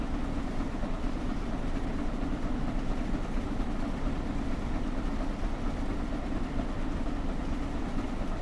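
The Flying Scotsman train hauled by two American locomotives between New York Penn Station and Trenton rumbles as a steady, loud, unbroken roar of wheels and engines that never lets up.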